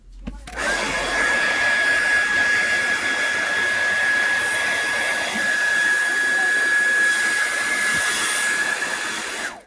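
A heat gun runs loud and steady close by while heating the screen of a Samsung Galaxy SM-G975F phone, a continuous blowing whir with a thin whine that starts abruptly and stops at the end.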